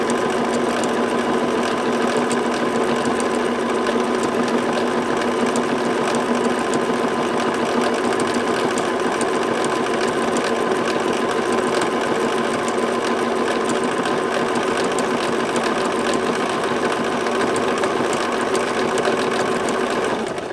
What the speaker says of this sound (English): A trick with decorative stitches is to not race the machine.